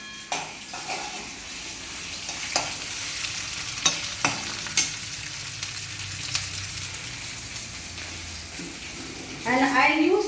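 Vegetables stirred and cooking on low heat in a pan for Labda, a dense mixed-vegetable curry, with a steady soft sizzle broken by a few scraping stirs and a louder burst of frying near the end.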